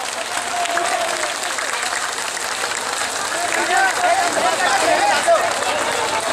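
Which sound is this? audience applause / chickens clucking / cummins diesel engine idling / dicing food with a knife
audience applause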